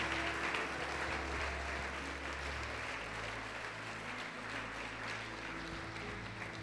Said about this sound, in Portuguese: vamos aplaudir o Senhor Jesus e glorificá-lo